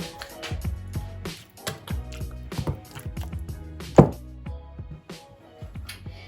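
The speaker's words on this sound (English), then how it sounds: "Next, I'm going to mash my bananas up." Soft squishing thuds of a potato masher pressing ripe bananas in a bowl for chocolate chip caramel banana bread, repeated in an irregular rhythm with one sharper knock near the end, close and fairly quiet.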